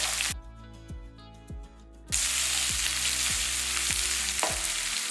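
Large chopped onions sizzle in hot oil with radish and curry leaves for a radish poriyal, quiet at first, then a loud steady hiss with regular low thumps from stirring.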